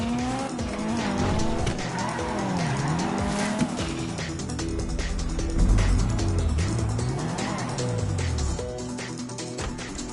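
Tires squeal and skid repeatedly as a getaway car races and swerves through streets in Grand Theft Auto V, its engine loud and close throughout.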